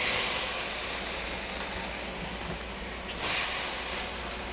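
Tomatoes added to a hot pan for shrimp pasta, a broad steady sizzle and hiss that swells sharply once near the end, close and alone without voices.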